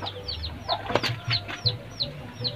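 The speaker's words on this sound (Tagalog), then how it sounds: "Nagkutok kalapati." A racing pigeon being bathed gives a few soft, low coos, while brief high chirps of other birds repeat in the background.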